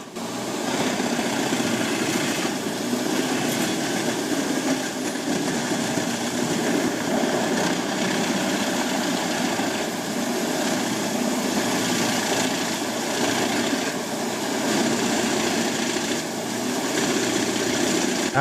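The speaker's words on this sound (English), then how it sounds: "The rasping sound of wood being shredded blends with the powerful engine noise, creating a vibrant and intense industrial symphony" A Gen's HEM 700D wood chipper shreds large tree trunks, its engine roaring steadily with a dense, rasping grind of wood that carries on, loud and close, for the whole stretch.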